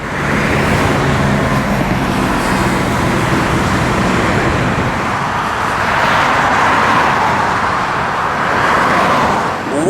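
Steady roadway traffic at a traffic circle in Atlantic City, New Jersey, a continuous broadband wash of cars and heavier vehicles with slight swells as vehicles pass, loud and close throughout, no voices.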